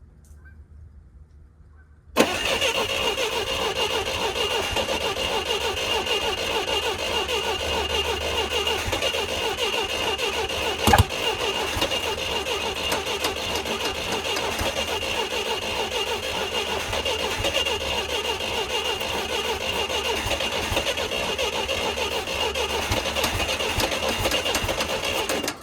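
An old forklift engine cranks over and over, trying to start with the fuel on and ignition hooked up, a long steady rhythmic churning after a quiet opening, with one brief clank partway through.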